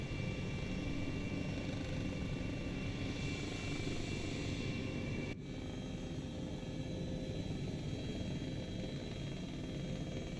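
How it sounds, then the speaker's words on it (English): A helicopter flies low over jungle with one engine out after a chip failure, its rotor and engine drone steady and close from start to finish, with no talk. "we're doing some off-kilter helo ops right here"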